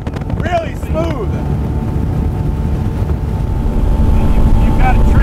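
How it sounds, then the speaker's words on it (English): 300 HP motor of a 2012 Checkmate 24 boat running smoothly on the water, a steady low rumble under heavy wind buffeting, with a brief voice near the start. "Wow, motor feels great. Really smooth."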